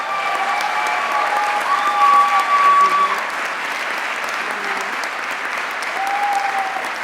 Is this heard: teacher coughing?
no